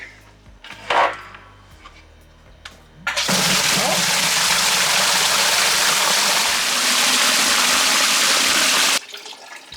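Well water gushes loudly into a bucket, a dense continuous rushing pour that starts abruptly after a few faint knocks and stops just as suddenly near the end.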